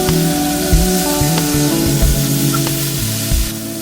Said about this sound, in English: Then put in your kimchi and stir fry for another 45 seconds.